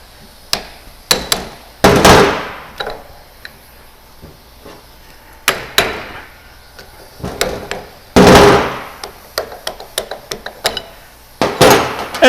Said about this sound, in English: I'm going to go ahead and put the chisel in here.